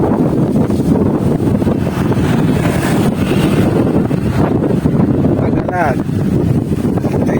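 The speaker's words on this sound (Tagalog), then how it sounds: "Sarap ng hangin dito" Wind blows hard and steadily across a microphone outdoors at a riverside spot in Valenzuela, a loud continuous roar with a voice talking underneath.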